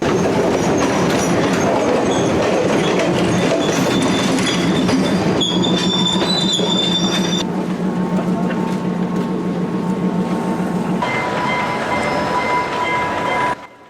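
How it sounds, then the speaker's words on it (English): Trains pull into Fort railway station, with a loud, close rumble of rolling wheels, high squealing and ringing tones, and a steady mechanical drone that persists to the end. "Trains from multiple parts of the country reached the Fort railway station this morning."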